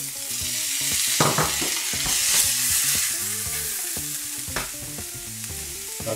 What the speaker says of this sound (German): Die Zucchini nicht zu lange anschwenken, sonst werden sie matschig.